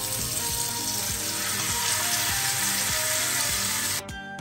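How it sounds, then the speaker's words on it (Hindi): Tandoori chicken drumsticks frying in oil, a loud, dense, continuous sizzle with faint rhythmic crackles, nearby and without talk, cutting off abruptly near the end. "अभी चलो मम्मी फ्राई करते हैं"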